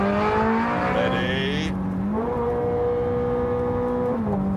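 Police car with a computerized gearbox accelerating hard, its loud engine note climbing and dropping with a couple of fast gear changes, steady and close throughout.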